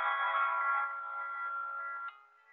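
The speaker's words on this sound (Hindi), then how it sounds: "रिंगटोन अभी बज रही है" A steady electronic ringtone plays on an Android phone, tonal and sustained, fading slightly before cutting off abruptly; no voices over it.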